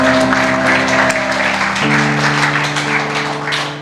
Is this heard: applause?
yes